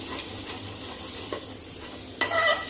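Masala being stirred as it roasts in a pan for stuffed brinjal curry, a steady soft sizzle with a few scraping strokes of the spoon and a brighter clatter near the end, close and unaccompanied by talk.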